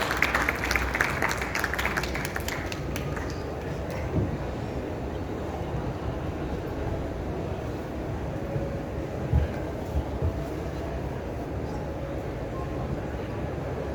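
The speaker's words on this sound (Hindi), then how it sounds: "सभी एक बार जोरदार तालियों से इनका स्वागत कर दीजिए।" A crowd applauds at a literature festival at the New Delhi World Book Fair, sustained even clapping that fills the space and holds at a steady level from start to finish.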